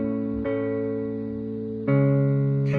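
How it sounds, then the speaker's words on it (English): An ample guitar sound layered onto a beat for a track, with sustained harmonic chords that change twice and are close and loud, with no voices. "then from there I add up this guitar, ample guitar sound."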